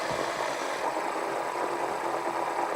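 A bat-shaped fidget spinner whirs steadily in the hand, a continuous close mechanical hum with a buzzing, motor-like drone and no talking.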